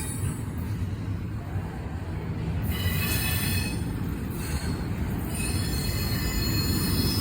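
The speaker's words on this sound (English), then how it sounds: "We just watched 2 train meets over here, and this one is still going over there where that other train is at." A CSX intermodal freight train rolls past close by, its wheels squealing steadily on the rails over a continuous loud rumble of moving cars with no break throughout.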